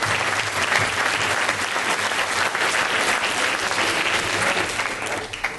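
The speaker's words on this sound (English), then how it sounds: "So a big round of applause to the couple of folks we have." A Tea Party meeting audience claps for the candidates, giving dense, loud, sustained applause that holds steady throughout without a break.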